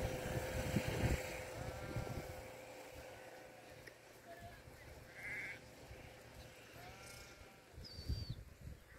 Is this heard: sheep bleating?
yes